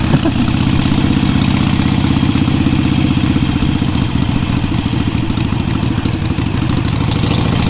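A Harley-Davidson Iron 883 Sportster V-twin idles loud and near on its first break-in ride, a steady low, lumpy rumble with a fast clattering pulse and no revving.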